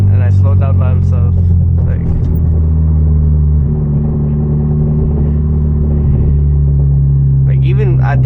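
Loud, steady low engine and exhaust drone from a manual Hyundai Genesis Coupe slowing on a downshift at night, heard from inside the cabin with someone talking over it.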